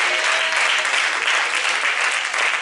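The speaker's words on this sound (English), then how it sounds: "just give a clap for those that made Bibleway their choice" A church congregation claps together during a Pastor's Appreciation Month service, a dense, steady wash of applause that stays loud and even throughout, with no pauses.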